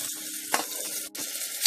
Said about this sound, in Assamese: ভালদৰে মিলাই পেলাই ভাজি ল'ম।